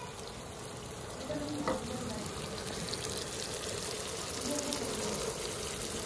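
Liver (kaleji) sizzles and fries on a tawa in a steady, dense crackle, with a brief clatter of stirring, in a village kitchen.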